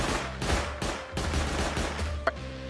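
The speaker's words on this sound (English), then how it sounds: "I'm gonna shoot them from raid base." Rapid gunfire from shooting at enemies from a raid base in Rust, a series of loud, closely spaced shots forming steady bursts, with one sharp crack near the end.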